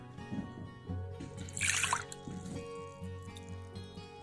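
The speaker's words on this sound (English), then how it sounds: "So I usually take a little water, give it a little swish." Tomato seeds are swished in a little water inside a container, giving close, soft sloshing and dripping splashes with one brighter splash midway, over a steady background hum.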